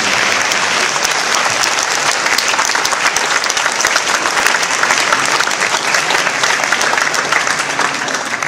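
Dense, sustained applause from a large audience at a Prophet Mohammad Day closing event, loud and steady throughout with no letup.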